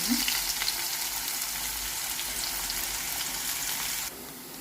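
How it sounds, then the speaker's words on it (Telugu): Onions frying in hot tempering oil of mustard seeds, cumin and urad dal for a fenugreek-leaf tomato curry: a loud, steady, close sizzle that drops abruptly to a softer hiss near the end. "తాలింపు వేగింది ఉల్లిపాయలు వేసేస్తాం"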